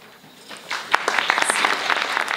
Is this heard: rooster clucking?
no